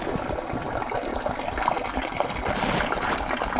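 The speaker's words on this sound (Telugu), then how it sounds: "ఇక్కడ మెడిసినల్ వాటర్ ఫాల్ ఒకటి ఉందంట." A small medicinal waterfall in a natural setting trickles and splashes steadily nearby, a continuous close liquid patter with no voices over it.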